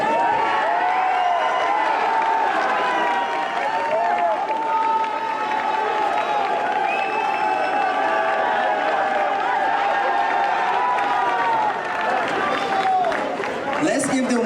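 Audience crowd noise at homecoming royalty introductions on the NIU campus, a steady wash of clapping and cheering that holds for about fourteen seconds and fades slightly at the end.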